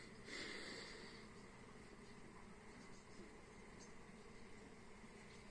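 Low, steady hum of many bees buzzing among buckwheat flowers outdoors, a continuous drone with faint insect whines drifting past.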